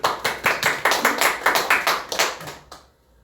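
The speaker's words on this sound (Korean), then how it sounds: "박수." A church congregation at a Wednesday prayer service claps hands together in a steady rhythm of roughly twenty sharp claps over nearly three seconds, then falls quiet.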